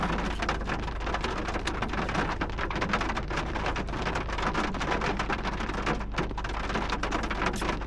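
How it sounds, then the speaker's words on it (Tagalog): Heavy rain pounds a roof with no ceiling beneath it, a dense, steady roar of drops with low rumbling underneath, loud and close throughout with no speech. "Maingay yung ano, wala kaming kisame. Umuulan kasi."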